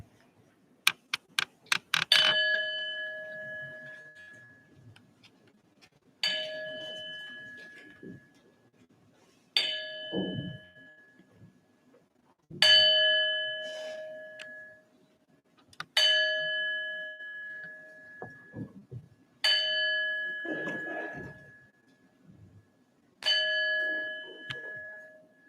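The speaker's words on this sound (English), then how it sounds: "we'll begin our service this morning ringing the bell 7 times" A church bell at a Unitarian Universalist Sunday service rings seven times, each clear metallic strike ringing out and fading before the next, spaced a few seconds apart, with faint room noise between.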